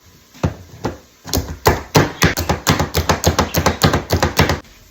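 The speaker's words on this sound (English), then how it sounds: "For the sake of showing you another product, food chopper." A food chopper comes down on food with sharp, crisp chops. A few spaced strikes speed up into a fast, steady run of close, loud impacts.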